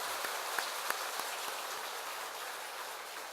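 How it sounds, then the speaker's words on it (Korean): Church congregation clapping for a medical mission team, a dense, even wash of hand claps with a few sharper individual claps standing out, continuous throughout with no talk. "이분들에게 우리 박수를 좀 한번 보내주세요."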